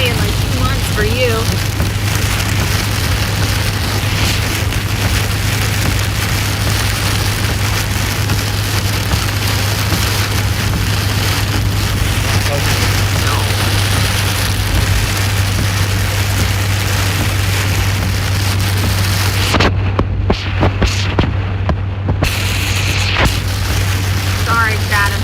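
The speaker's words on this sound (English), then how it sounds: "it's raining really hard" Heavy rain pounds a vehicle during a storm chase through Pennsylvania in a severe-wind squall line, a loud steady downpour roar throughout with a low constant hum beneath and a brief dropout near the end.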